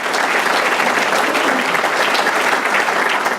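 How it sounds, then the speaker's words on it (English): An audience at a speech by a senator breaks into steady, dense applause, many hands clapping evenly and loud for several seconds with no voice over it. "Give her a round of applause."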